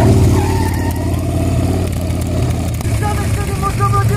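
A Harley-Davidson Sportster motorcycle with a cracked exhaust manifold runs close by, a continuous throbbing engine drone with a slight rise in revs, while people talk over it.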